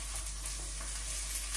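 Green chilies added to onions frying in a pan, a dense continuous close sizzle with soft crackling over a low hum, brief and without talk.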